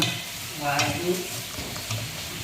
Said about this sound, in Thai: เดี๋ยวคนน้ำปู คนคนน้ำปูมันละลายให้น้อยก่อนนะ